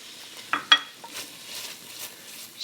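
Garlic sautéing in oil for a puttanesca sauce makes a faint, soft sizzle, with a few sharp utensil clicks against the pan near the start and end.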